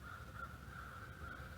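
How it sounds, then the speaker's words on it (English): Crows caw outdoors on a rural homestead, a faint, steady chorus of calls with no voices over it. "Crows. Hear all the crows."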